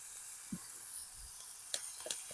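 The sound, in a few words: tomatoes sautéing in oil for fish curry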